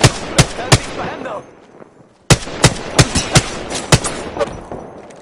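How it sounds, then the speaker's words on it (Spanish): Gunfire in a video game: loud, sharp shots crack out in quick bursts, then a short lull, then another rapid string of shots with the game's ambience underneath. "¡Me están disparando!"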